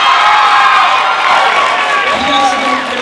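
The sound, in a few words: audience applause and cheering after a school musical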